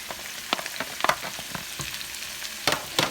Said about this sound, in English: So now I'm going to saute the tomato and kimchi, cabbage kimchi.